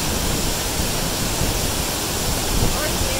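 Twin Falls waterfall at Rock Island State Park, Tennessee, roaring as a loud, dense and unbroken rush of falling water that fills the whole stretch with steady white-noise texture and no distinct events.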